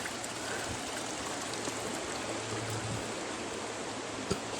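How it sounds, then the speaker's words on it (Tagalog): A river in a rocky mountain setting flows steadily, a continuous broad rushing of water close by with no break, heard alone without voices. "Ito ang Tinipak River."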